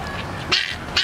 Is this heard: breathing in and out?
no